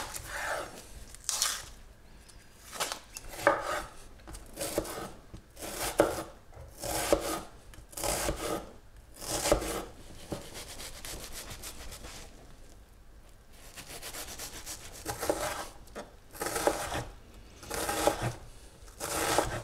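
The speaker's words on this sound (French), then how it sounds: "on va commencer par s'occuper de l'oignon" An onion being chopped with a knife: bursts of rapid, crisp cutting strokes separated by short pauses, close and moderately quiet, repeating over the whole stretch.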